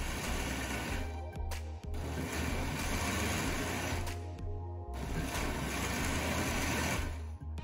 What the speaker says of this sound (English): we're going to blend this until it's really, really creamy or fully puree